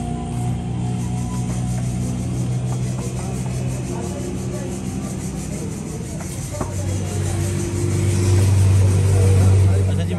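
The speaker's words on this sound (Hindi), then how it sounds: "चेक करें जी, माशाल्लाह से इंजन हमारे बिल्कुल फ्रेश पड़ा हुआ है।" A car engine idles steadily after an oil and filter change, a low continuous hum that swells slightly louder toward the end with some rubbing noises on top.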